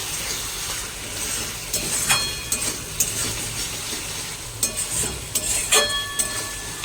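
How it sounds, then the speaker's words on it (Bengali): Lentil fritters (dal bora) made from soaked pea lentils frying in a pan, with steady close sizzling of hot oil and occasional light clinks and scrapes of a utensil against the pan. "এই দেখো দোকান থেকে এসে আমি এখন ডালের বড়া ভাজছি"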